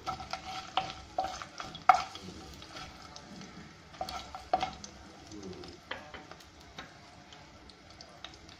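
Fenugreek and coriander seeds fry in oil, a faint background sizzle under frequent clinking stirs and scrapes of a spoon against the pan, loudest near the start and middle.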